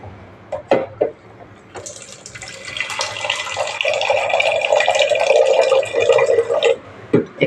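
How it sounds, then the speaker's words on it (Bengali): Water pours steadily for about five seconds into a mixer grinder jar holding chopped onion, preceded and followed by brief clinks and knocks of the jar. "একটু জল দিয়ে দিলাম"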